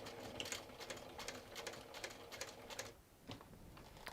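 A sewing machine back stitches a crossbody bag in short, quiet bursts of rapid ticking, pausing briefly before a final few stitches, with no talking.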